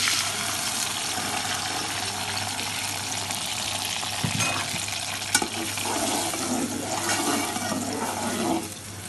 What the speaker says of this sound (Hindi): ग्राइंड हुए हुए टमाटर डालेंगे